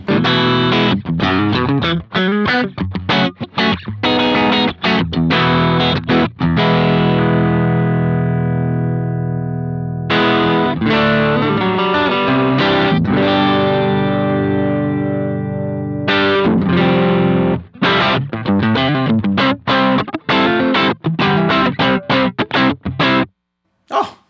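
Distorted electric guitar through a Boss GX-100 boutique amp model playing rhythmic chugging riffs and sustained chords, loud and close, with a short pause near the end.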